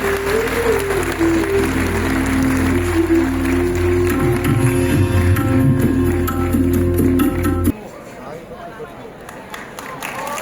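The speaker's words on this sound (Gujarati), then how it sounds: "તાળીઓના નાદથી આ ક્ષણને વધાવીએ।" A crowd at a development-works inauguration event in Bhavnagar applauds to welcome the chief minister. The clapping mixes with loud music and voices, then cuts to quieter scattered clapping and noise near the end.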